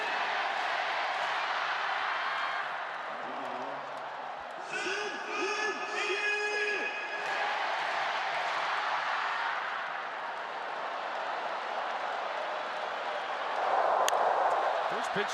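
Baseball crowd in the Taipei Dome at a World Baseball Classic qualifier, Chinese Taipei against South Africa: a steady roar of cheering fans throughout, with a brief swell of whistles and chanting in the middle.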